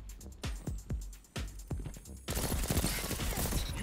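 Rapid-fire pulse rifle bursts from Destiny 2 crack out in repeated quick volleys, near and loud, followed by a dense stretch of sustained gunfire and chaotic combat noise.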